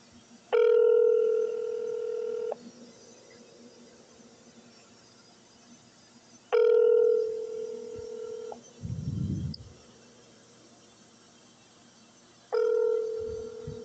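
Telephone ringing while calling an office front desk: three long ring tones heard through the line, each about two seconds, separated by silent gaps, with a brief low thump between the second and third rings.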